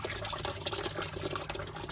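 Clean water draining out of the engine of a 1934 Oldsmobile hearse, a steady splashing gush spattering onto the ground nearby, fairly loud and continuous.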